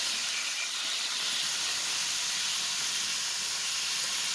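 Snake gourd sautéing in a pan for poriyal makes a loud, unbroken steam-like hiss and sizzle that holds steady throughout.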